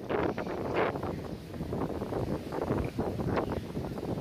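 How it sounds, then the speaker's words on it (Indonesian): Strong wind buffets the microphone outdoors near a white dragon kite snagged in a pine tree, a continuous roaring, rumbling gust noise with uneven surges throughout. "Di sini anginnya cukup kencang"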